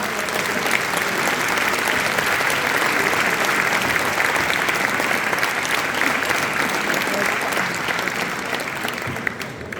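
A crowd at a town festival in Gurb gives loud, sustained applause for a group of young participants, with dense, even clapping lasting around ten seconds.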